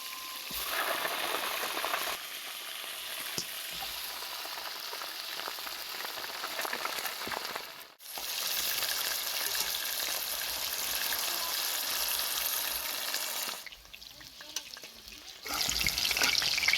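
Quince apples frying in oil in a frying pan, a close, steady sizzle and crackle broken by two short pauses where the frying sound drops away before returning.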